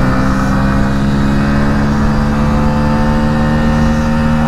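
A Hero Splendor Xtec BS6 2022 motorcycle accelerates hard in third gear, its engine droning loud and close in a steady, unbroken roar that holds for several seconds.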